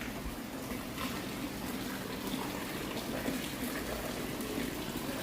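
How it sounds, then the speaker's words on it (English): Water poured from a pail into a koi pond at a greenhouse conservatory, a steady splashing gush that runs unbroken for about five seconds at moderate level with no voices. "Pouring out water there into the koi pond."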